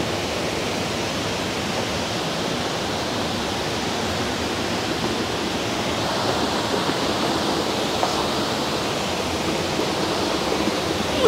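A powerful waterfall in flood, Yasuko Falls in the Yokoya Gorge, Nagano, roars in a dense, unbroken rush of water, loud and steady throughout with no voices.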